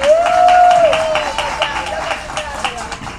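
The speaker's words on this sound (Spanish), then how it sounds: "un aplauso para él" An audience applauds a performer at a Christmas recital, a steady wash of clapping with a voice rising briefly over it at the start.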